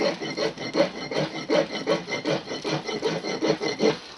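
A file rasps around the outside edge of a pewter casting in steady, evenly paced strokes, about three per second, close and clear with no talking.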